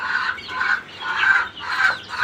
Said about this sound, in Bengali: এই হচ্ছে সিল্কি মুরগি